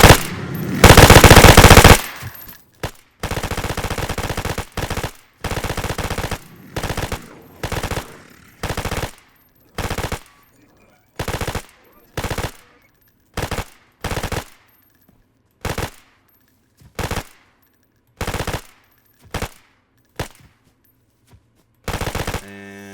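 Rapid bursts of .338 rifle fire in the video game DayZ ring out in a long close burst, then in a string of short, evenly spaced loud volleys separated by silence.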